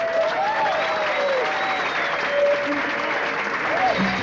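Audience applause for the performer Javier Temple at a Peruvian stage show, a steady, dense wash of clapping with a few scattered whistles and voices mixed in, sustained at an even level throughout.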